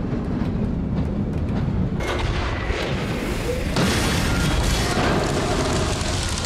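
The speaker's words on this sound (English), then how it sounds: "That train's going the wrong way." A train in the video game Black Mesa rolls the wrong way down the track, a loud, continuous rumble and clatter with heavy booming surges that swell after the first couple of seconds and again near the middle.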